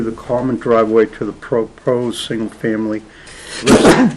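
A single sneeze bursts out near the end of a planning board meeting, sharp and loud, just after a man's steady spoken remarks.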